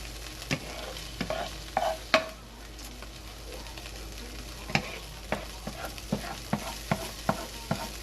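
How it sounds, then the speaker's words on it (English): Shrimp cooking in a pan with vegetable juices, a steady low sizzle under repeated spatula scrapes and clicks against the pan, close and moderately loud, with no talking. "We're going to cook our shrimp"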